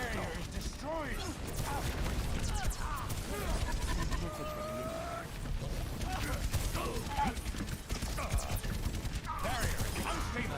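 A video game shield barrier breaks apart under continuous gunfire in a dense, roaring mix of rapid shots, crashing impacts and mechanical whirs, with brief whining tones and voices talking over the chaos.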